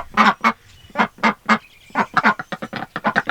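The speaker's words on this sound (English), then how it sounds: "Let's go get the ducks out. Ducks." Ducks quack loudly in quick, uneven bursts, several calls overlapping at close range with a short pause midway.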